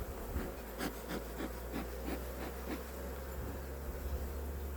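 Honey bees at a beehive during a first spring inspection make a steady, dense buzz, with individual bees whizzing past close by in repeated brief swells over the hum.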